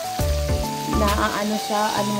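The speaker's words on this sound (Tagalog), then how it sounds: "habang nagpiprito tayo ng isda, yung ating tilapia" Tilapia fish fries in hot oil, giving a loud, close, continuous sizzle and crackle with some tonal clatter mixed in.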